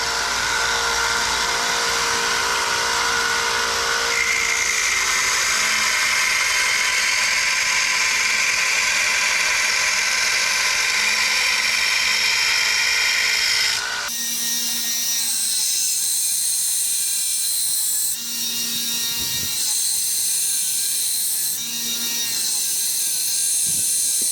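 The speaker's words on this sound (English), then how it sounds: "So all done with the grinding, and you've put your bevels and everything in." A knife blade's bevels are ground on a machine, making a loud continuous high-pitched grinding whine that runs steadily, shifts tone partway through, then carries on with brief dips as the blade is worked against the abrasive.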